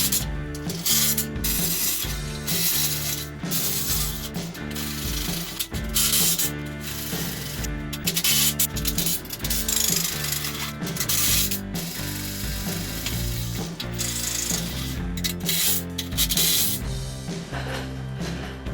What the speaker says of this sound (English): we're going to drill all these holes, 3 holes in the bottom